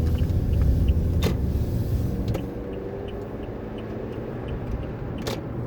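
A car is driven after Royal Purple Max Boost octane booster has been added, with a steady low engine and road rumble from inside the cabin that eases slightly partway through, plus a few faint clicks.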